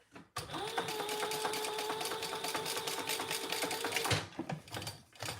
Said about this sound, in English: And then we're just going to sew that together.